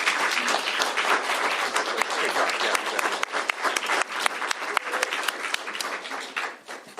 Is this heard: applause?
yes